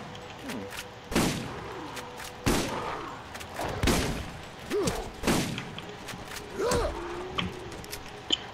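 Ladyfinger revolver shots from the video game Borderlands fire as several separate sharp bangs spread across the stretch, each followed by a short ringing tail, with mechanical in-game clatter between shots.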